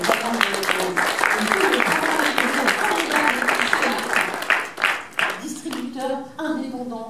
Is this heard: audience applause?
yes